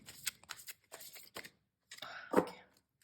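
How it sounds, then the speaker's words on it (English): Tarot cards are shuffled in quick papery bursts, several short riffling clusters followed by a brief pause and then a longer, louder shuffle ending in a sharp snap, close and without talk. "I was just about to stop shuffling and pull out 2 cards or 1 card which I'm feeling drawn towards"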